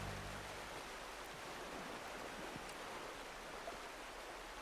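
A river in Red Dead Redemption 2 rushes in a steady, dense broadband hiss, loud and unbroken, with a brief low tone at the start and no speech.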